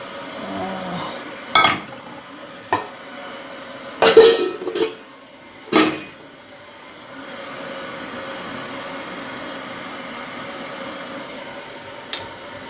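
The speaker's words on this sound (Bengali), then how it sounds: "লিকারটা নিয়ে ছেঁকে নিই" Pot and cup clinks while tea liquor is strained in a home kitchen: a handful of sharp, separate metallic and ceramic knocks with gaps between them, over a low steady background hum.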